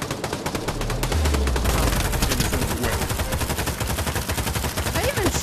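Rapid automatic gunshots in the VR shooter Pavlov, a loud, steady stream of close rounds firing continuously without a break.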